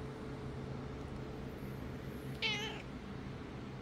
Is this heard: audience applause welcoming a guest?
no